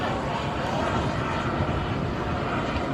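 A Carf Models Bolt turbine model jet takes off at a Warbirds Over Delaware airshow, making a loud, steady, broadband engine roar that holds without a break for the full length.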